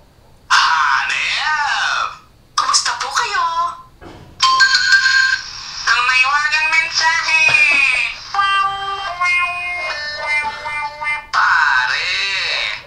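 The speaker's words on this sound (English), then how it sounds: "meron din dito mga notification sound na ganito" Several notification tones from a MyPhone myX12 smartphone play one after another, bright synthetic melodic chimes and jingles, loud and close, separated by short silent gaps.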